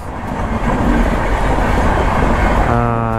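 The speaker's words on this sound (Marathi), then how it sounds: "आता ट्रेन जाईल इथून. आली आवाज तर येतो आहे." A passenger train rumbles past close by at a level crossing, a steady loud roar of wheels on rails, with a low droning tone rising near the end.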